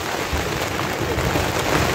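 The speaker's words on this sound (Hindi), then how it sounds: "बहुत तेज पानी आ रहा है" Heavy rain pours down in a dense, steady hiss, loud and close, with no voices.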